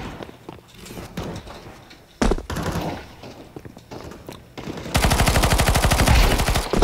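A PP-Bizon submachine gun in a Counter-Strike 2 deathmatch fires a few isolated loud shots and short bursts, then unleashes a long, continuous stream of rapid automatic fire at close range.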